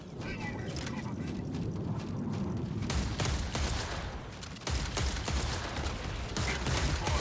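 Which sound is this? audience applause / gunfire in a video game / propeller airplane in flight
gunfire in a video game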